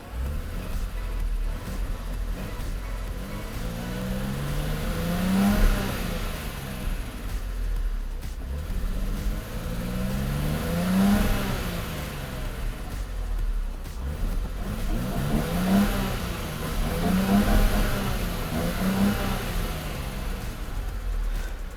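A Mercedes R107 280SL engine revs up and settles back down again and again in slow, steady cycles, close and continuous, with no one speaking.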